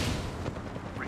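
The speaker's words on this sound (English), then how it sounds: "Cracked an enemy shield." An enemy's shield cracking in Apex Legends, a brief sharp crash-like burst over busy game noise, heard alone with no talk.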